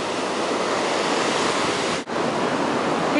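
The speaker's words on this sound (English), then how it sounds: "Some nice waves going on today." Ocean waves break on Playa Zipolite beach in a close, constant surf roar with a brief dip in loudness partway through. No one speaks.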